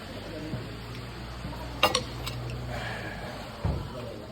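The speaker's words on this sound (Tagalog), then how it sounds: "Ang kutsarita yun ah." A teaspoon clinks against dishes at a meal of bulalo beef soup, giving a few sharp, light metallic taps over a quiet, low room hum.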